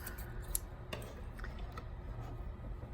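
Scissors snip through crochet yarn on a baby blanket, a single quiet cut heard close against a soft room background.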